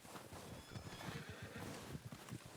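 A horse in the Red Dead Online western video game whinnies and trots up through snowy mountain terrain, a loud neigh over a steady rhythm of clip-clopping hooves drawing near.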